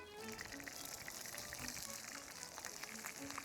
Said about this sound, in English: I'm cooking a Wagyu steak on Jeffrey Epstein's ranch